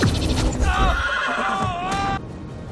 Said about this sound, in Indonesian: Lalu Eddie Brock menemukan kuda dan mentransformasi kuda tersebut menjadi kuda Venom